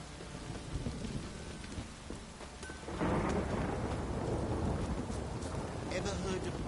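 Heavy downpour with thunder in the video game The Witcher 3: a dense, steady hiss of rain that jumps louder about halfway through, with low rolling rumbles underneath.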